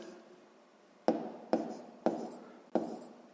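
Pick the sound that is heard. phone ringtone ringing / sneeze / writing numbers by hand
writing numbers by hand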